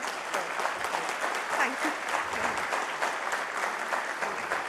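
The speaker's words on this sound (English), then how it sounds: "a huge and far better round of applause" Audience at a healthcare keynote applauds steadily, a dense wash of many hands clapping throughout, with a brief spoken thanks over it.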